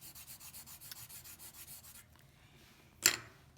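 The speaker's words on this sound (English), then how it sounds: "I am putting a substantial amount of graphite on the page." A graphite pencil scrubs steadily back and forth on paper in a soft, close, rhythmic rasp, stops, and then one brief louder scratch follows against quiet room hiss.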